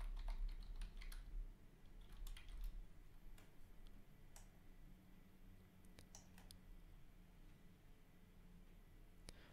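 Quiet, irregular keypresses on a computer keyboard as a password is typed, with a denser burst of clicks at the start, then scattered taps over a faint background hum.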